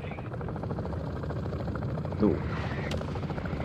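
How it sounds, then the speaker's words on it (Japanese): A helicopter in Call of Duty DMZ chops steadily and loudly throughout, a constant rotor drone with a brief vocal sound partway through. "あ、待て、ヘリ来たヘリ来たヘリ来た。"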